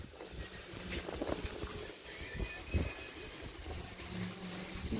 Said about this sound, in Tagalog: Grabe ang himig ng hangin, oy. Napakalakas.